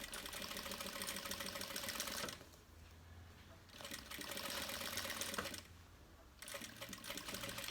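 A sewing machine runs steadily in two bursts, stitching an edge seam on a plastic bag, its fast rattling hum stopping briefly in between; faint and close.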